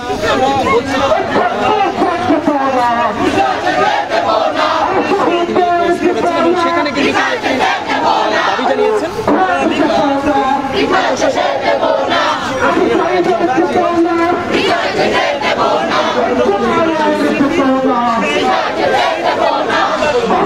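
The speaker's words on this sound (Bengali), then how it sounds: "তাদের যে স্লোগান উত্তাল হয়ে উঠেছে পুরো ঢাকা বিশ্ববিদ্যালয় ক্যাম্পাস" Dense crowd of student protesters chanting slogans in unison on the Dhaka University campus, loud and continuous with rhythmic shouted phrases and a constant background of voices throughout.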